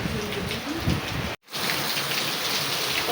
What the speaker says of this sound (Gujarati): આ જો વરસાદ તો છે ને કાંઈ ધીમો નથી પડતો